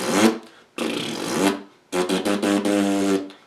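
Tight buzzing lips mimic a car engine in a beatbox routine: a short burst, then a longer buzz, then a pulsing stuttered buzz, all close and loud with no talking.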